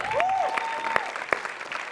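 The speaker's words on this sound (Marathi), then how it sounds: "श्याम्या, तुझ्यासाठी टाळ्या वाजल्या पाहिजे" A brief burst of audience clapping on a Marathi comedy show stage, fairly close and lively, with a rising tonal sweep briefly running over the start.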